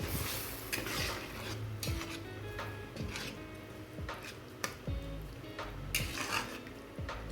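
Oyster curry with coconut milk being stirred in a pot, repeated metal scrapes and clinks of a spoon against the pot over a soft simmering sizzle.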